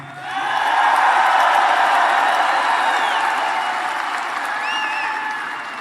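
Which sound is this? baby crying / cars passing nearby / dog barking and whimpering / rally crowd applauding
rally crowd applauding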